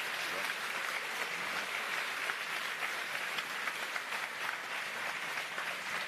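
Sustained audience applause fills a Frontier Expo stream, a dense, even wash of many hands clapping at a steady level with no break.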